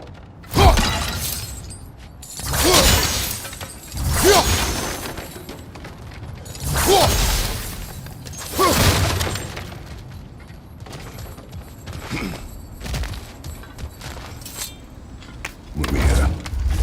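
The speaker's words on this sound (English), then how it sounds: "back to smashing through things for fun and profit" Objects smashed and shattered in the video game God of War Ragnarok, with repeated loud crashing bursts of breaking debris every couple of seconds over low rumbling game ambience.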